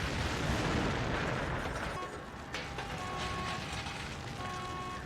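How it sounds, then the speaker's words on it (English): A bomb explosion from The Sopranos episode 1 gives a loud, broad roaring blast that stays heavy and sustained before easing into a lower rumbling tail, with no talk over it. "I never expected a bomb in episode 1."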